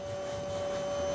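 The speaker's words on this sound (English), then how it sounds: "we vacuum everything" A vacuum cleaner runs over fabric-covered wall panels inside a module of the International Space Station, a steady close whine with a faint fluctuating low rumble beneath, no voices.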